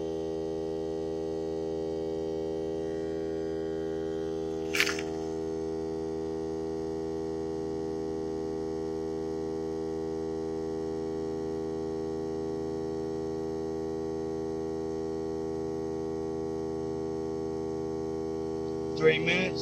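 A Hart 20V 2-gallon air compressor runs while inflating a tire, a steady, even motor hum with a strong tonal drone that holds for the whole stretch, broken by two brief clicks or clatters.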